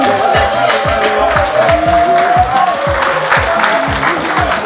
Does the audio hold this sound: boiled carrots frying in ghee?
no